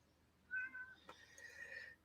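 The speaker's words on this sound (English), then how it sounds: "he's meowing away, trying to get my attention" A pet cat meows indoors, two or three drawn-out calls, the first clearer and a later one longer, fairly quiet against a silent room.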